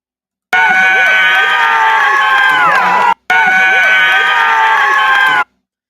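A loud crowd cheers and roars for a first-place finisher on a sports podium, a dense sustained wall of shouting and whooping that drops out briefly midway and then resumes.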